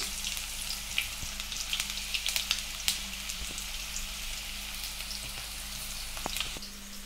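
Chicken pakodi fries in oil on a low flame, a steady soft sizzle with scattered small crackles and pops, close and continuous with no voices.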